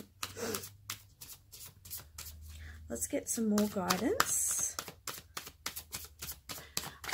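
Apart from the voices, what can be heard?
tarot cards being shuffled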